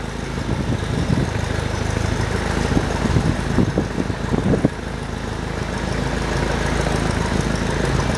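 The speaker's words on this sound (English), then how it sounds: "Now we have a plane taking off behind me, so it's going to be a little noisy." A loud, steady engine roar of a small airplane taking off nearby fills the whole stretch, a constant low drone that swells slightly midway.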